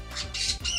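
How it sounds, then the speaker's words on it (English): Birds squawking in a video game, two or three harsh, close squawks in quick succession within less than a second, with no talk over them. "the birds are like in and into something right now"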